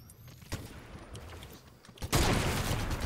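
Gunfire in a Fortnite-style shooting video game comes as sharp scattered shots early on, then a loud, dense, sustained burst of rapid fire that fills the rest of the moment.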